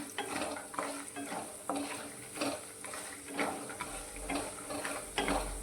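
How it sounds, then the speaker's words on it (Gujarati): Cumin and whole coriander seeds sizzle in hot oil for onion chutney while a spoon scrapes and stirs the pan in a regular rhythm of scrapes and taps, with no talking. "જીરું અને ધાણાને પણ આપણે તેલમાં સારી રીતે સાતળીશું"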